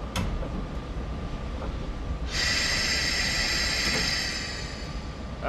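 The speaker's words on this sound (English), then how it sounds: "I'm going to open the doors" Regional express train doors open in Train Sim World 3, a sudden steady hissing, chiming tone starting midway and holding for a few seconds before easing off, over low rumbling background.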